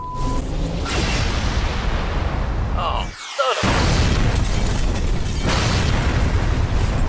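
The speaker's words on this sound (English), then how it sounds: "Firing main cannon." A main cannon fires in Red vs Blue, giving a loud broadband blast and explosion that cuts out briefly and then swells into a sustained roar, with a voice exclaiming over it.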